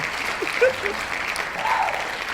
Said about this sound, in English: Have to give me a round of applause for this one.